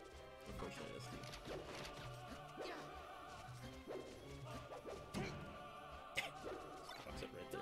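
Smash attack hits from a Super Smash Bros. Melee match between Marth and Fox, with punchy impacts over busy game sounds at a fairly low level.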